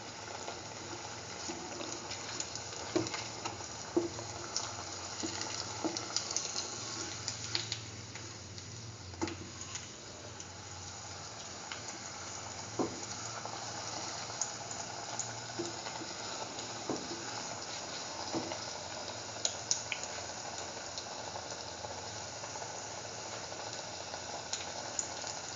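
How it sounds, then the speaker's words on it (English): Hash browns frying steadily in a pan, a continuous crackling sizzle with scattered sharp ticks and pops, close and moderately loud with no talking. "Let it fry further."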